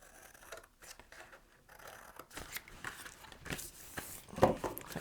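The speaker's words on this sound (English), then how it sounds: "So I'm going to cut mine out and then re-burnish them." Scissors cut through scored card pieces for a large mailing box, a run of quiet, uneven snips and rustles growing busier toward the end, close by with no talk.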